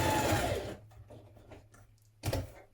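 A sewing machine back tacking a dress side seam near the pocket bags, a close, loud short whirring run that stops, leaves a faint hum, then restarts in a brief burst.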